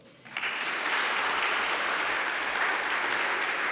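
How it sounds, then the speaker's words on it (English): Graduation ceremony audience breaks into steady applause after a short pause and keeps clapping evenly throughout, moderately loud and fairly distant. "Please give yourselves a round of applause."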